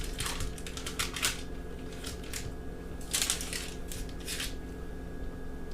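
A knife slicing through a slab of homemade buttercream fudge, producing clusters of short, crisp crunching strokes in several bursts with quiet gaps between, close and fairly soft.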